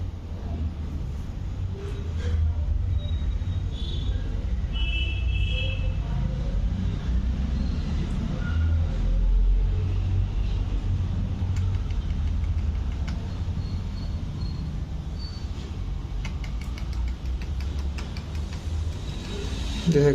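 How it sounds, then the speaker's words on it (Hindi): Steady road traffic from a nearby street, a continuous low rumble of passing vehicles with faint higher noises on top, constant in level throughout and with no speech over it. "मेरे पास में रोड भी है, रोड का गाड़ी का आवाज़ के साथ ही माइक्रोफोन काम करता है।"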